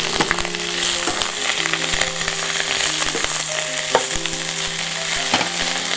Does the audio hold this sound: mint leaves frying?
yes